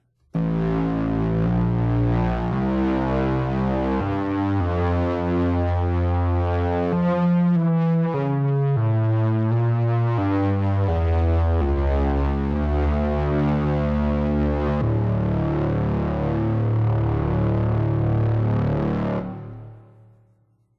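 A thick, distorted synthesizer, a Cherry Audio PS-20 softsynth, plays a sustained melodic phrase with shifting chords, loud and washed in reverb, fading out at the end.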